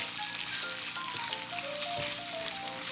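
Hotdogs fry in a pan until browned, giving a continuous close sizzle and crackle with faint melodic music in the background.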